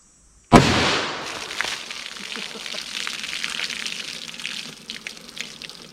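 A single sharp, loud .357 Magnum gunshot blasts apart a baloney target, followed by a long wet spatter and patter of flying debris that slowly fades.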